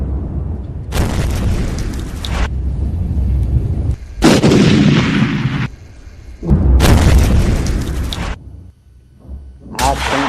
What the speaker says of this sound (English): This is how our artillery rode.